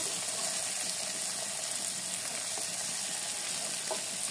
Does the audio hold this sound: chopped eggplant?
yes